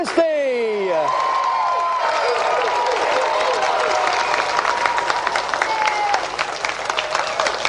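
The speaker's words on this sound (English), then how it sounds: "let's have another round of applause for Carl Lewis, Colin Jackson, Linford Christie" A studio audience breaks into sustained applause and cheering on a television game show, the clapping dense and loud while an electronic sweeping sound fades in the opening second.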